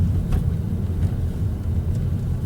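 Steady low engine drone from a car with a manual 6-speed, lugging in third gear at about 1100 RPM, a dense rumble held evenly throughout with no talk.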